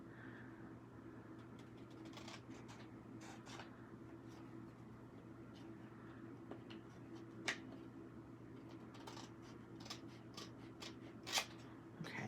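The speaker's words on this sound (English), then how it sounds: "I'm just going to use my scissors and do it" Scissors snip the paper overhang on a stamping project with scattered quiet cuts over a low steady background hum.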